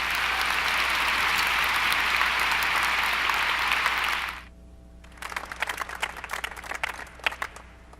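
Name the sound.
audience applause for honorees at commencement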